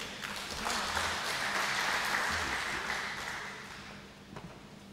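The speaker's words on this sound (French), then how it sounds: "Vos acclamations, s'il vous plaît." Steady applause from an audience at an awards ceremony, a broad wash of clapping that swells quickly, holds for several seconds, then fades toward the end.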